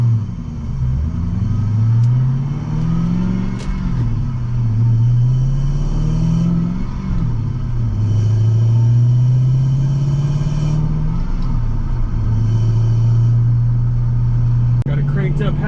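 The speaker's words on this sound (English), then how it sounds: "So now you hear a lot of engine noise." A car engine fitted with an intake amplifier drones loudly and steadily, its pitch climbing and falling repeatedly as it accelerates through gears in traffic, with a deep rumbling tone throughout.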